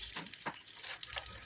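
Garlic cloves and cumin seeds tempering with mustard-seed spice mix in hot oil for an Andhra amaranth-leaf and tomato curry, giving a steady close sizzle and crackle with faint stirring.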